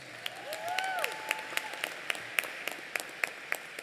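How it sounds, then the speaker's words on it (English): Graduates at the Abbotsford Senior Secondary convocation clap for themselves, a sustained wash of applause with distinct loud claps and a brief whistle early on. "Give yourselves a round of applause."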